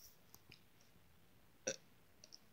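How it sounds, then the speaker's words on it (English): A single short burp from a person, close and fairly quiet, surrounded by a few soft clicks in an otherwise quiet room. "Got to get that burps out, folks."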